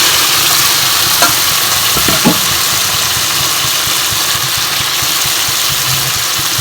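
Chicken scraps fry steadily in oil in a pan, giving a loud, continuous sizzle with a couple of faint clinks from stirring, and no voices.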